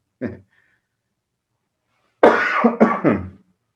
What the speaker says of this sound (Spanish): me da la tos de viejito